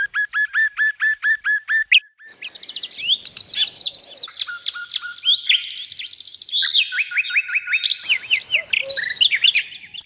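A bird sings loudly and close, starting with a run of repeated whistled notes, then rapid varied trills and chirps without pause.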